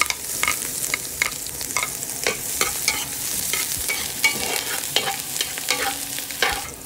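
Chopped garlic and ginger sizzle steadily in a hot pan, with frequent scraping strokes of a spatula stirring them close by; no voices.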